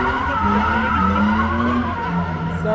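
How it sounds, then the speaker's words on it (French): Nissan 350Z drifting at a tuning show, a loud continuous tire squeal with a revving engine sustained throughout, close and steady, no talking. "ça drift vachement bien une 350Z"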